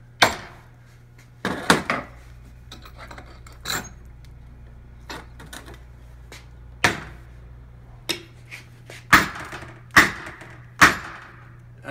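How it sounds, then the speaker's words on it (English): A series of sharp, loud strikes from a bigger hammer at irregular intervals, each a hard knock against a Starboard polymer board, with a low steady hum underneath. "Let's go to the bigger hammer."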